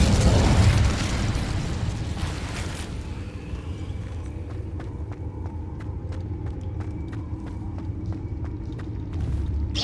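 The Incendio fire spell in Hogwarts Legacy erupts as a loud, close burst of flame and rumble at the start and dies into a softer crackling roar, with faint ticking game sounds afterward.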